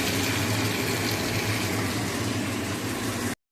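Whey from set yogurt is poured into a cooking pot, producing a loud, continuous close-up gushing splash that runs steadily for over three seconds and then cuts off abruptly.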